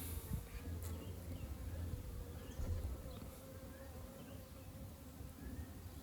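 Dense, steady buzzing of many honeybees working on comb frames in an open hive, a close continuous drone with occasional nearer wingbeats passing by.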